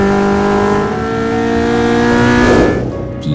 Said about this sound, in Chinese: 你将亲耳聆听新时代轰鸣的引擎声